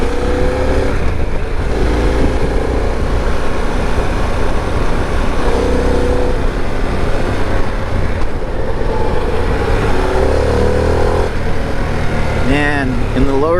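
Harley-Davidson Pan America 1250 Special motorcycle on a demo ride, engine rumbling loudly with heavy wind rush, revs rising and falling as it pulls through gears, with a rider speaking over it at moments.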